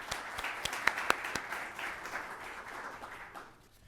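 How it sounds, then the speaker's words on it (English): A conference audience gives a quick round of applause for the sponsors, a few loud distinct claps at first, then a softer blend that fades out toward the end. "can we give them a quick round of applause?"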